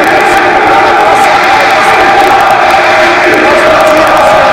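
A football stadium crowd roars and cheers through a played-back recording, a dense, loud, continuous wash of many voices with no break.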